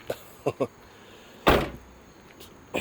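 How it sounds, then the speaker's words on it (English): A 1996 Cadillac Fleetwood Brougham's car door shuts with one solid, close thud and a short ringing decay, preceded by a few faint knocks and clicks. "So pretty much all the doors sound solid with the exception of this one when you close it."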